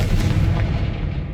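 A Confringo spell explosion in the video game Hogwarts Legacy bursts loud and booming, a heavy rumbling blast that carries on for over a second with a few sharper cracks inside it.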